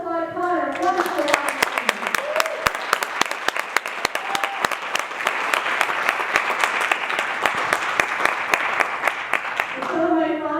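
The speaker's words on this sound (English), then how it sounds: "Let's applaud Connor." An audience at a string orchestra concert breaks into loud, sustained applause, dense clapping with a few sharper nearby claps. A voice speaks briefly just before and just after.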